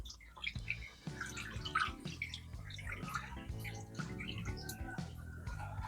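Dirty water is poured slowly out while sand filter media from a PVC pipe water filter is washed outdoors near a road. The pouring and splashing runs steadily throughout, mixed with a tonal background.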